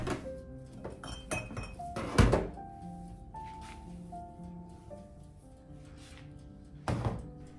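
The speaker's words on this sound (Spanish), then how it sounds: "Después de lavar los platos," Dishes being washed by hand in a home kitchen, with scattered clinks and knocks of plates and cutlery, two louder clattering thumps, and faint running water between them.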